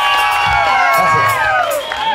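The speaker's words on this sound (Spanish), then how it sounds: "para quienes pido un fuerte aplauso de Santa Catalina" A concert crowd at a live tropical music show in Paraguay cheers, whoops and applauds loudly, while sustained sung or shouted tones ring over the noise throughout.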